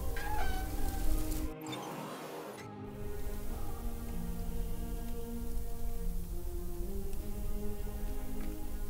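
A cat meows a few times in the video game Deponia Doomsday, short tonal cries over a steady bed of game music and ambience.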